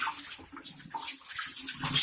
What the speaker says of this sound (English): Rinse it thoroughly.